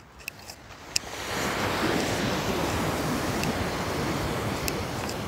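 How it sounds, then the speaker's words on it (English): Ocean surf at a Southern California beach, a broad roar of waves that swells in after a second and holds steady, with a few faint clicks early on and no speech. "Beautiful waves."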